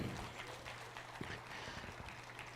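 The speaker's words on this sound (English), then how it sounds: "Let's give her a round of applause here." Audience applause at a junior livestock steer show in Highlands County, a faint, steady patter of clapping spread across a large arena.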